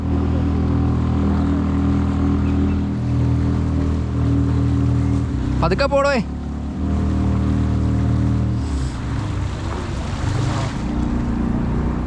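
Engine of a small fishing boat on a river, a loud steady low drone with a brief splashing burst midway, and a voice speaking briefly over it.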